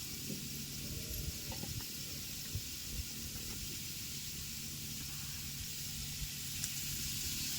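Cooked rice stir-fried in a kadhai hisses with a steady, even sizzle, broad and constant with faint scraping ticks, no voices.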